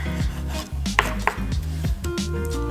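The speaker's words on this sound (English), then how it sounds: "I'm chopping up the carrots really hard." Carrots chopped hard with a knife on a board during beef stew prep at home, a few sharp, loud knife strikes standing out over a busy background of music or kitchen noise.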